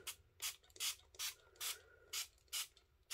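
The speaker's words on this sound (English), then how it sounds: "We're going to spray the powder." Eight short hissing spray bursts from a trigger spray bottle spraying water onto Brusho powder, evenly spaced and fairly close, with quiet gaps between each pump.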